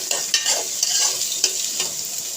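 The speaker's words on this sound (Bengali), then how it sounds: "এখন আমি দেখেন পেঁয়াজ রসুনগুলো ভালো করে ভেজে নিব, লাল লাল করে বাদামি কালার করে ভেজে নিব।" Chopped onion and garlic frying while being stirred, a loud, close hissing sizzle with rhythmic scraping strokes every half second or so, no voices.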